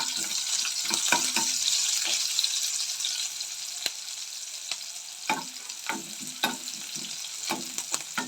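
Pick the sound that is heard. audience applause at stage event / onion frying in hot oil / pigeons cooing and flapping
onion frying in hot oil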